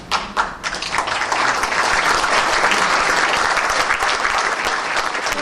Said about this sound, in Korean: 우리 박수 좀.